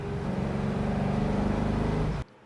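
A 1970 Chevrolet Chevelle SS restomod drives with a steady, loud, rumbling engine drone that cuts off abruptly near the end.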